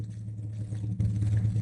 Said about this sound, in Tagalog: Ang motor nga gawas na.